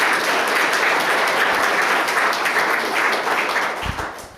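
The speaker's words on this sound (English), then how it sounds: "so please a round of applause for Genevieve as well." An audience at a panel event on housing as a right breaks into sustained applause, dense and loud clapping that holds steady and begins to fade toward the end.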